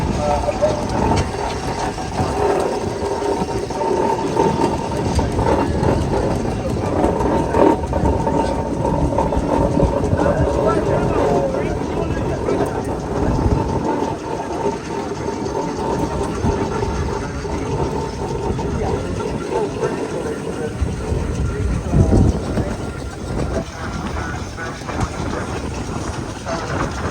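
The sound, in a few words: steam engines running at a steam show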